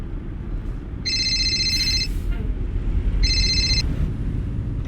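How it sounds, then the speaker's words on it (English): Two bursts of an electronic phone ring, each about a second long, over steady low road and engine rumble inside a moving vehicle. "No, that's the phone."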